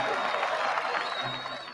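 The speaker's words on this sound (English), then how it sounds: "Garvey's address was met with great applause and much excitement" Applause and excited crowd noise after Marcus Garvey's address, a dense, steady wash of clapping and murmuring voices at moderate level throughout the short burst.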